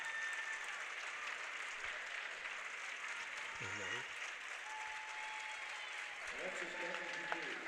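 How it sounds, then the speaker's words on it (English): Steady applause rolls through the crowd at an NCAA women's basketball game between Mary Hardin-Baylor and Austin as a player leaves the court. It is distant and even, with brief voices and a whistle-like tone over it. "A round of applause for Savage as she departs."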